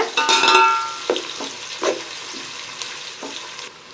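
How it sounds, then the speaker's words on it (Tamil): Onions sauté in a pan for chicken biryani, a loud close sizzle broken by several stirring scrapes and clinks, with no talking. "இந்த ஆனியன் நல்ல கோல்டன் ப்ரௌன் ஆகணுங்க. அப்போ தான் இந்த பிரியாணி ரொம்ப டேஸ்ட்டாக இருக்கும். இதை நல்லா வதக்கிக்கோங்க."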